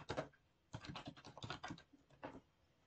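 Quick clicking and tapping at a computer while working in Google Classroom, arriving in a few brief clustered bursts with pauses between, close and fairly quiet, with no voice.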